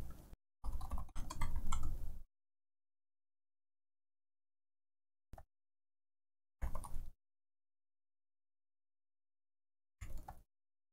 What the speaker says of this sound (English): So I'm going to go ahead and type it out.